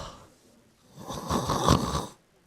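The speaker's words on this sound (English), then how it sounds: "Are you snoring?" A single drawn-out snore swells and fades, close and fairly loud, with no talking around it.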